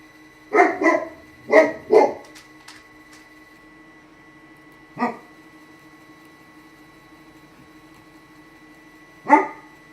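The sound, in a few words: dog barking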